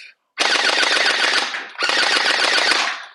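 An ASMRCAP M416 electric gel ball blaster fires two sustained full-auto bursts, loud and close, a rapid buzzing rattle of shots separated by a brief pause with no talking.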